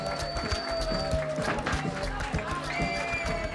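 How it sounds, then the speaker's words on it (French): An audience applauding at a beauty pageant for plus-size contestants, heard as continuous clapping from a crowd mixed with music and background voices throughout. "On l'applaudit."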